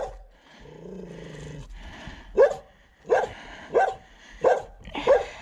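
A dog barks in a run of five or six sharp, loud barks at roughly even intervals, close by, after a stretch of quieter low growling and rumbling.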